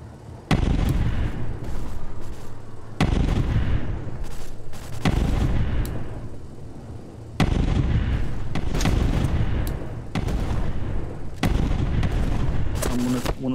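Heavy gunfire and shell blasts in the VR shooter War Dust, with loud, sharp booming impacts recurring every couple of seconds over a rumbling battlefield din.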